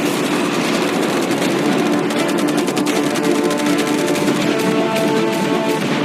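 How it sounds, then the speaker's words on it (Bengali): Barrage of fireworks, arrows and catapults fired at a yacht off an island, heard as a dense, continuous crackle and rapid popping over a steady low rumble, loud and unbroken throughout with no talk. "অনেক ফায়ারওয়ার্কস, অ্যারো এবং ক্যাটারপুলস, এই সব একসাথে তোমার ইয়টের দিকে এখন ছোড়া হবে।"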